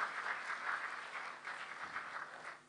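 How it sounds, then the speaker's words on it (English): Conference attendees at a dialogue event applaud the speakers, a soft, steady wash of clapping heard faintly from a distance, fading slightly toward the end. "Let us give a big round of applause to all the speakers."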